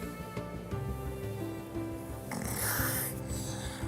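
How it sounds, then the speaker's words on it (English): Heavy snoring from an obese man with sleep apnea, a close, continuous rasping drone that builds into a harsher snort near the end, with no speech. "Sleep apnea is a condition where you essentially snore so badly that you hold your breath."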